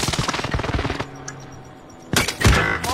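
Rapid automatic gunfire in a first-person shooter video game rattles loudly in dense bursts, drops to a quiet lull, then returns with sharp, heavy shots and closer blasts.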